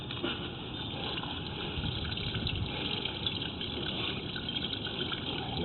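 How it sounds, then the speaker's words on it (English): Water running through a sewer pipe past an inspection camera: a steady, muffled rushing gush with low churning rumble, continuous and even from start to finish. "I'll turn a little water on here to clean off the lens of the camera real quick."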